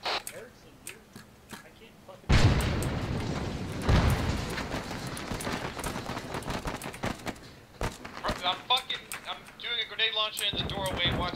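Grenade blast in a war video game: a loud booming explosion bursts in and rumbles on amid gunfire and clatter, with shouting voices throughout.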